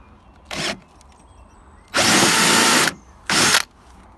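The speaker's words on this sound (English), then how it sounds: "It does grab, pulls the drill inwards." A power drill whines in three bursts while boring an 11mm hole, grabbing as it cuts: a short one, a longer steady run of about a second, then a brief final burst, with quiet gaps between.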